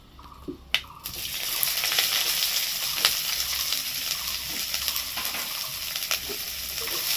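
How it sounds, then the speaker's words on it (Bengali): Chopped onion sizzles steadily in hot oil in a pan, a continuous crackling hiss with a few sharper pops, close and fairly loud throughout. "পেঁয়াজটাকে হালকা একটু ভেজে নেবো বাদামি করে"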